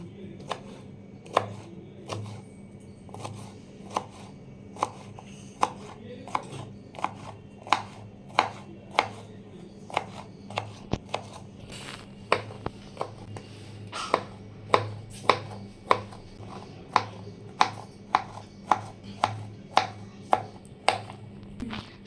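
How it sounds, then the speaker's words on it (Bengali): Cucumber seeds are finely chopped with a knife on a board, a steady run of sharp, evenly spaced thuds close up, mostly on their own. "শসার দানাগুলো ভালো করে কুচিয়ে নিয়েছি"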